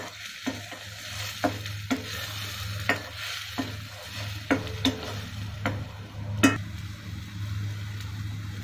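Spices for beach sundal sautéing in a pan: a low steady sizzle runs beneath repeated sharp scraping taps of a spoon stirring against the pan, roughly one every second, close and clear with no talk.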